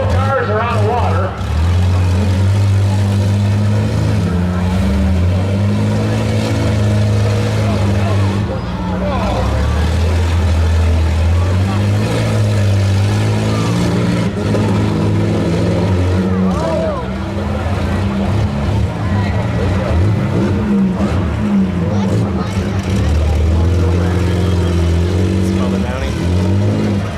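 Demolition derby minivans grind and rev through a muddy pit at a county fair, engines roaring and lugging continuously under a loud crowd and announcer talk.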